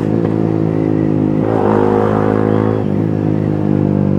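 Motorcycle with a loud, open muffler revving close by, a steady engine drone that swells in a clear rev around the middle and settles back, continuous and dominant throughout.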